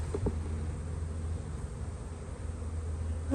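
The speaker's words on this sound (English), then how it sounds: "we're going to shake these bees off gently." Honey bees being shaken off a hive frame during a spring hive inspection: a continuous, close buzzing hum, with a couple of brief knocks near the start.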